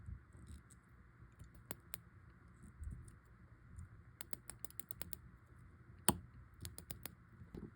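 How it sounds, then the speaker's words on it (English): A screw tightened in an antique Ollendorff Swiss watch makes tiny, faint, sharp clicks, scattered singly and in brief clusters over a quiet background. "you should be able to hear it click."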